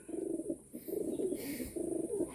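Pigeons of Andhra, Madrasi and Giribaz breeds coo in a loft, several repeated low throaty coos in close succession, fairly near, with no talking.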